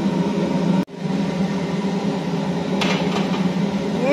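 A lid is set onto a cooking pot of simmering dinner, giving a brief knock followed by a few light metallic clinks near the end, over a steady background hum from the stove, with no talking.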